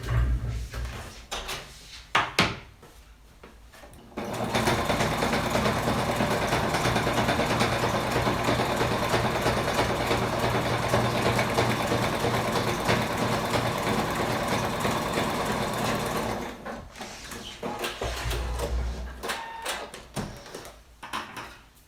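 A sewing machine top stitching the flap of a cotton pouch runs in one steady, continuous whir for about twelve seconds, bracketed by handling clicks and rustles of fabric before and after.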